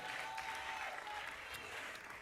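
Audience applause at a Congolese gospel contest semi-final, a soft, continuous spread of clapping heard from a distance, brief and fairly faint.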